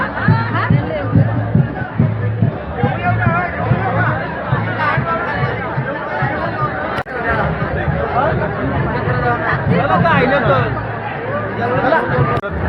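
Dense crowd chatter at a busy temple darshan in Maharashtra, many overlapping voices forming a loud continuous babble close by, with a sharp bang near the middle.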